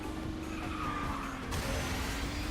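A kart in the racing video game KartRider drifts with a continuous tire skid and squeal over a steady engine drone, loud and close, shifting in tone midway as the drift changes.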